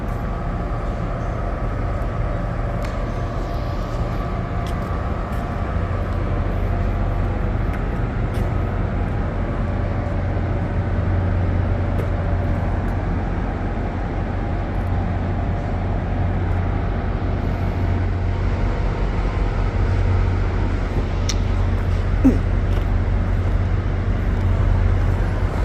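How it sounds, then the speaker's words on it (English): Steady low rumble of an approaching train at Hoboken station, a constant heavy drone with faint rail hiss and scattered clanks, moderately loud and continuous without talk. "I definitely hear a train coming"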